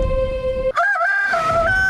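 A rooster crows loudly and close by, one long drawn-out call that pitches up and wavers, standing alone without any voices over it.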